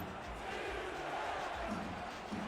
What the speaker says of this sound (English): You hear the Houston crowd coming alive.